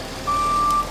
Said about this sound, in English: Here comes the cement truck.